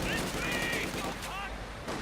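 A 12.7 mm DShK heavy machine gun fires from a base bunker in the strategy game Company of Heroes 2, rattling in continuous bursts beneath battle noise, with other sounds of the game layered over it.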